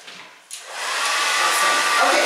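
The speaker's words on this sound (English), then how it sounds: "I'm just going to blow dry this way" A hair dryer blow-drying long hair starts up after a brief pause and runs as a steady, close, loud whoosh of airflow.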